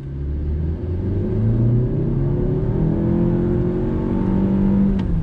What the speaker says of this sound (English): Let's go ahead and do a little acceleration test.